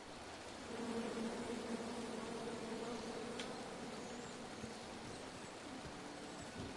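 Angry bees in the King's Quest video game hum in a low, continuous droning buzz that stays soft and steady throughout, with no speech.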